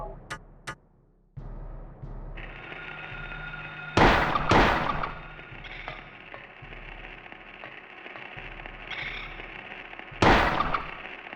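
Gunshots ring out in the 1999 video game Silent Hill: a few sharp, loud bursts spaced seconds apart over a tonal humming background, with small clicks early on and no speech.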